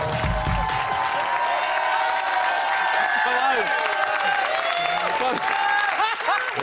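Studio audience applauding and clapping on a Big Brother live show, a dense, steady wash of claps with cheers and overlapping voices throughout.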